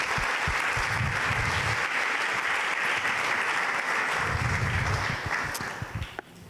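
A church congregation applauds, sustained clapping filling the space for several seconds before tapering off near the end.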